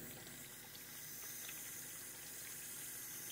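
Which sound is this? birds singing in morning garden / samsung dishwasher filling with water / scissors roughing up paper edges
samsung dishwasher filling with water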